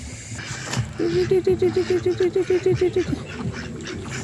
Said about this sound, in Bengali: মোটামুটি হাঁস পুকুরে আসছে তো সকাল সকাল